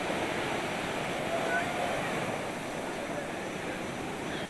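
Ocean waves at a beach roll in as a continuous broad wash of surf with no distinct breaks, steady and fairly loud, mixed with wind noise.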